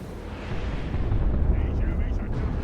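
A Whirlwind artillery barrage pounds the field in the Dawn of War 2: Retribution real-time strategy game, producing a dense, continuous rumble of overlapping explosions. The barrage is loud and sustained, with distant whooshing over the roar.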